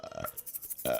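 A short, quiet burp, a brief throaty croak heard alone.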